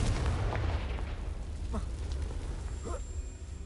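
A Confringo blasting spell explodes in Hogwarts Legacy, a rumbling low burst that sits under steady game ambience, with brief whooshing sweeps partway through.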